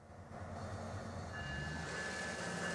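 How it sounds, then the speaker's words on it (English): A freight train rolls along a single-track main line in the Transport Fever 2 video game, a steady low rumble of moving rail cars with a faint high squeal building, and no voices. "I'm moving this freight train out of the way so it can at least clear the line for the local commuter train."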